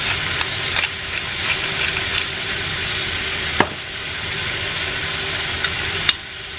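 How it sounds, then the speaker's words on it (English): Beef searing in a hot pan, a steady close sizzle throughout, broken by a couple of sharp clinks of a utensil against the pan. "I'm just trying to sear and lock in the flavors."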